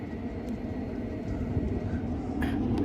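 Class 390 Pendolino 390-157, running as the Commonwealth Games Express from London Euston to Birmingham New Street, passes as a steady low rumble and rush of wheels with a brief high squeal near the end, heard at a distance with no talk.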